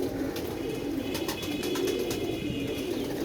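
A pigeon coos softly and continuously over a steady background hum, with faint higher chirps from other birds scattered through it.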